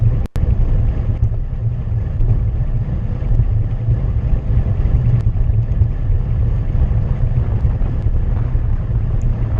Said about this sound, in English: And we're going into the wind